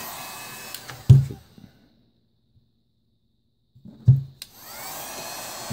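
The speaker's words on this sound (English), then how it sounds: "To keep the gun moving, you don't want to heat it up too much in one spot." A heat gun blowing hot air over heat shrink tubing on an electronic speed controller, the airflow whooshing on near, cutting off for a few seconds and then starting up again with a thump.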